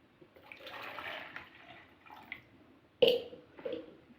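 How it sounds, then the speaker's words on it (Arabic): Water pours briefly into a baking pan of rice and milk, a soft trickle followed by a sharper splash and a short second pour, close and quiet. "بنزود ميه مع الرز مع اللبن"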